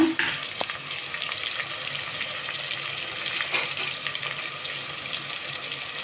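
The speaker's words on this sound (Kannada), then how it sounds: "ಸೊ ಇದು ಬ್ರೌನ್ ಕಲರ್ ಬರೋವರೆಗೂ ಫ್ರೈ ಮಾಡ್ಕೋಬೇಕು" Ingredients for wheat rava vegetable palav fry in a pan with a steady, moderate sizzle, close by, with a few sharper crackles and clinks near the start.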